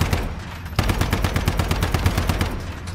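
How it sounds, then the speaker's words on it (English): Loud, close automatic gunfire in the game Once Human hammers out as a continuous rapid stream of shots, with a brief lull before the firing thickens and carries on steadily to the end. "We can shoot them from here."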